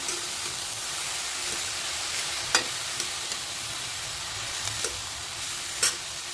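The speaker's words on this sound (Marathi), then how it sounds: "मुळ्याचा पाला घालून घेऊया। भाजी परतून घेऊया।" Radish leaves for bhaji sauté in a pan, a constant bright sizzle with occasional light clicks and scrapes of a spatula, no talking.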